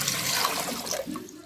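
Water pours from a glass into a cooking pot on the stove while Kashmiri pink tea is being made, a short splashing, gurgling stream heard close up.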